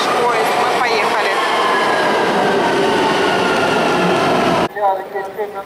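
An Istanbul metro train pulls away with a loud, continuous rolling roar and faint wheel-squeal tones, until the sound cuts abruptly to quieter cabin noise.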